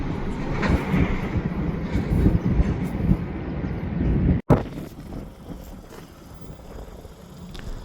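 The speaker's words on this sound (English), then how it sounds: "With this train slowly passing" A slow freight train passes in Fostoria, Ohio: a steady, close rumble of rolling railcars with wind buffeting, a sharp break partway, then a softer, thinner rumble as the cars keep moving.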